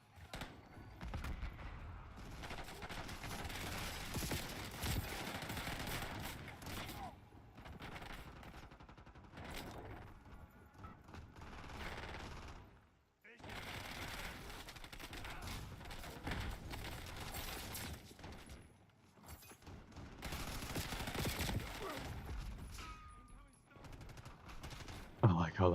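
Gunfire in a multiplayer shooter video game, with dense, nearly continuous bursts of shots and other game sounds filling the clip apart from a couple of brief pauses.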